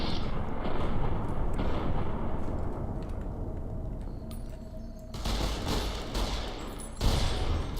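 Rifle gunfire from the modded Game Rifle in Fallout: New Vegas, fired at enemies inside a fort: a steady, dense rumble of shots with heavier bursts breaking out near the end.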